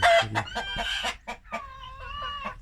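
Chickens cluck and squawk up close, with a rooster's strained crow rising at the end and no talking.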